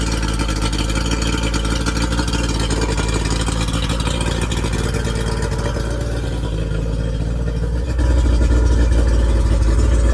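A Yamaha 40 HP two-stroke outboard engine on a 2007 Zodiac Pro 7 inflatable boat runs steadily with a loud, continuous droning hum. Its tone shifts slightly near the end, with no talking.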